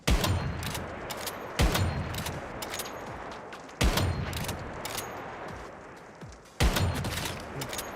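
Gunfire in the survival shooter Once Human rattles in loud, dense bursts of rapid shots, with sharp reports breaking out every few seconds over a continuous roar of fire.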